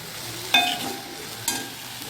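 Onion and grated coconut roast in a kadhai for a Konkan-style masala paste, with a soft continuous sizzle broken by two scraping clinks of a spatula against the pan, close up.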